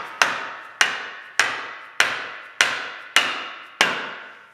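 A wooden tenon is driven into a mortise for a small pet bed with seven sharp, evenly spaced hammer blows, each ringing briefly before fading, close and clear with no talk.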